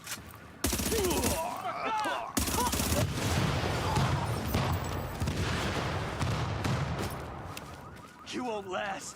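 Rapid bursts of loud gunfire from The Division, sniper rifle shots among heavy automatic fire and explosions, almost continuous across the stretch, with brief gaps near the start and end.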